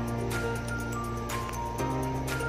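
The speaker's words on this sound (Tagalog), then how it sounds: "Maingay, medyo maingay lang yung ano, yung generator." Constant droning engine hum with steady low tones, like a generator running nearby, with a few soft knocks over it.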